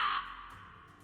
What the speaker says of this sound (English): a murder of crows circles the air